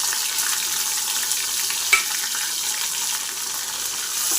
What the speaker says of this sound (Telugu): ఇప్పుడు ఆనియన్, కట్ చేసి పెట్టుకున్న ఆనియన్ ముక్కలు.